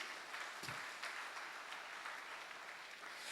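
A church congregation applauding and acclaiming God during a Sunday service, a sustained spread of clapping from many hands at moderate level without speech.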